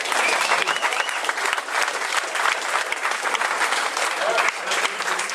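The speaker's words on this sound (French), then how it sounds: "On applaudit Laurent quand même." Hearty applause for Laurent at a tournament draw event, a dense crowd of clapping hands filling the room continuously, with some voices mixed in beneath.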